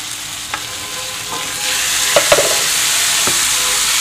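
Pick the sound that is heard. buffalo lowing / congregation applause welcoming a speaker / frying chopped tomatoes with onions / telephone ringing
frying chopped tomatoes with onions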